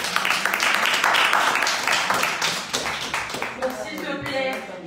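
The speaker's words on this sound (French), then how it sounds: "Est-ce que je peux applaudir pour elle?" A church congregation claps for a deaconess during a service, with rhythmic clapping and applause under ongoing voices, fading somewhat toward the end.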